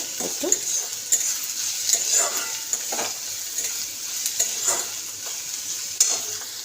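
Grated garlic fries in a pan, a soft sizzle punctuated by repeated scraping and clinking stirs of a spoon against the metal, close and fairly quiet.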